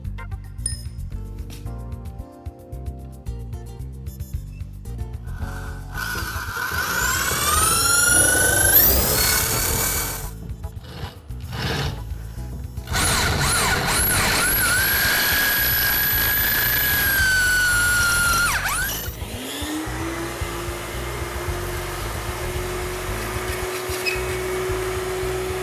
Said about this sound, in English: we're going to first make a pilot hole and then follow with our 1/2 inch drill marked to the proper depth of 1 5/8 inches